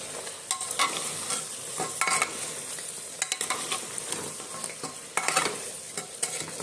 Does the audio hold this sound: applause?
no